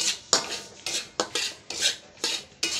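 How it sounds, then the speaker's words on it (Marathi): Semolina being roasted in a pan for a sweet karanji filling, heard as repeated scraping and stirring strokes of a utensil against the pan, about six rhythmic bursts, close and clear with no talking. "रवा भाजून घ्यायला बघा"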